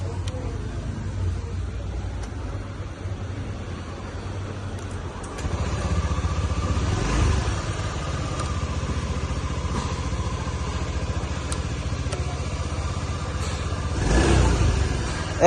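A 2016 Honda Dio 110cc scooter engine runs steadily at idle, a continuous low mechanical hum close by, with a slight rise in revs near the end and faint talking underneath.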